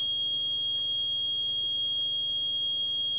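A tactical dosimeter near an X-ray tube sounds its radiation alarm, a steady high-pitched electronic tone held without a break through the whole clip over a faint low hum.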